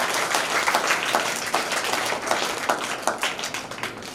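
Audience at a madrasa Independence Day programme gives steady, full applause to welcome a speaker, many hands clapping together in a continuous dense wash that holds evenly throughout.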